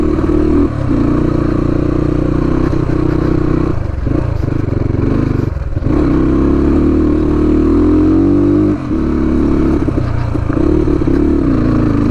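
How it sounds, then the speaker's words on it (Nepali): A motorbike labours up a steep mountain road toward Manang, its engine droning loud and close with steady revving that dips briefly a few times, while a voice talks now and then over it. "बाइक जति आयो माथि माथि आयो त्यति ल्याक हान्दै आउँछ कि"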